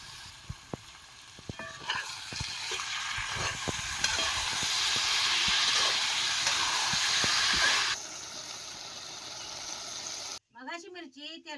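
Curd poured into chillies frying in hot oil and stirred, a loud steady sizzle and hiss with spoon scrapes and clinks, fading toward the end before a voice speaks briefly.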